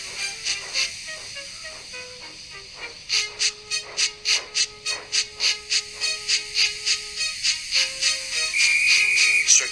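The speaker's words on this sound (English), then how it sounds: "Gordon, with much noise and blowing of steam, got ready to back onto the train" Steam engine Gordon puffs out rhythmic bursts of hissing steam, getting louder and faster, with tuneful whistle notes over the chuffs and a sustained hiss at the end.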